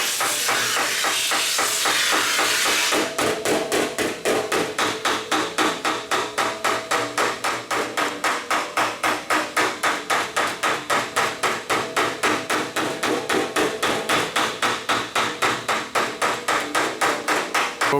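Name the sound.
metal shaping hammer with low crown die on aluminum panel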